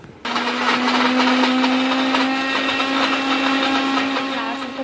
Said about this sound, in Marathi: आता हे मिक्सरला बारीक करून घ्यायचं